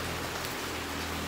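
Rain falls steadily as a dense, even hiss with no breaks, close and moderately loud.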